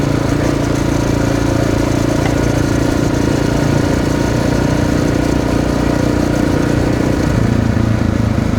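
A 1995 Honda XR600R dirt bike engine runs steadily and loud up close, a continuous throaty thump with a slight shift in pitch near the end, no voices present.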